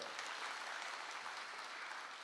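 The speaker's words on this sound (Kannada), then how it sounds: "ಕೊಳ್ಳೇಗಾಲ ಒಂದು ಚಪ್ಪಾಳೆ ಹೊಡಿಬೇಕು ನಮಗೆ ನಿಜವಾಗ್ಲೂ" Steady applause from an audience, a dense wash of clapping heard at a distance and fairly faint, with no talking.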